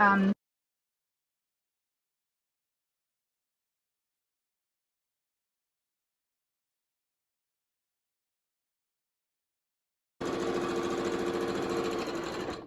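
Sewing machine stitching a seam with black thread on patterned cotton for a fabric face mask, a short loud burst of steady motor hum and needle chatter after a long silence, with no talk.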